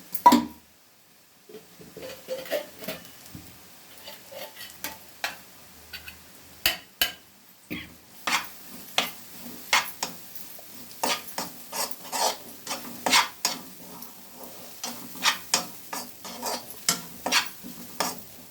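Grated coconut frying in a pan, stirred steadily with a utensil: repeated sharp scraping clicks and knocks in an uneven rhythm over a soft, constant sizzle, close and fairly loud, with no talking.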